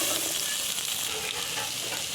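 Chopped onions and green chillies fry over mustard seeds and cumin in a hot pan, giving a steady, close, dense sizzle with a faint stirring texture throughout.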